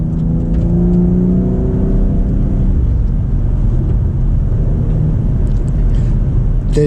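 A BMW X3 M Competition engine revs and pulls hard, a steady loud whirring roar that drops in pitch midway as it shifts and keeps accelerating.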